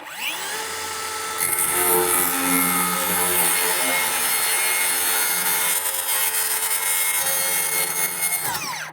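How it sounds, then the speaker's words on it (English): Power saw ripping three strips off the edge of a plywood sheet, one long continuous loud cut with a whining motor and blade hum that spins up and winds down at the end. "I just quickly ripped those 3 pieces right off the edge of this plywood"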